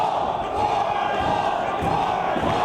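Wrestling arena crowd during a 2-out-of-3 falls match, a loud, dense roar of many voices chanting in rhythmic pulses, sustained throughout the clip.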